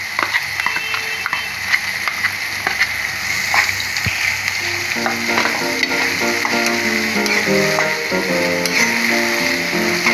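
Ginger and garlic fry in hot oil in a pan with a loud, continuous sizzle. A utensil stirs and clicks against the pan throughout, and a faint melodic tone runs underneath in the second half.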